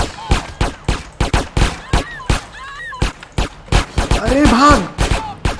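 Sharp, distinct gunshots from GTA San Andreas Definitive Edition fire in an irregular string of about a dozen and a half close reports, while someone speaks briefly and other voices come in between the shots.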